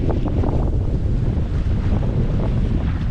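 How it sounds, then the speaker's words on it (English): A strong gust of wind buffets the microphone aboard an engineless sailboat on a sound, with a loud, low rumbling roar that holds steady throughout, with water sounds underneath. "Quite the gust of wind here."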